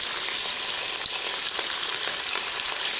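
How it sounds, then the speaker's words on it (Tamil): Four pieces of fish shallow-frying in oil for a Tamil fish curry (meen kuzhambu) produce a dense, continuous bubbling sizzle, close and loud, with no talking. "4 பீஸாக போட்டு பொறிச்சு எடுத்துக்கலாம்."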